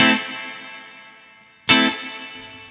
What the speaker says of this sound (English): just like a kind of bright sounding, springish sounding reverb.